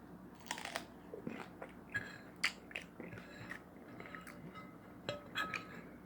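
Close chewing and eating of sausages: irregular soft crunches and wet bites with little clinks in between, steady and close, with no talking.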